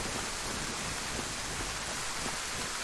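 Rain falls steadily in a video game, a constant broadband hiss of downpour with no breaks or voices.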